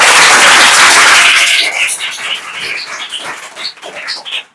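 A classroom of students claps loudly and densely at first, a bright, close roar of hands that then breaks into a scattered, uneven patter as it winds down.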